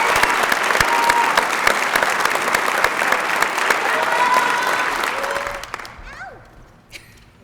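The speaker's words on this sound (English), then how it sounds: "How's about another round of applause for both graduating classes?" Loud, dense applause from a pinning ceremony audience for allied health graduates, sustained for several seconds with a few cheers mixed in, then tapering off abruptly to near silence.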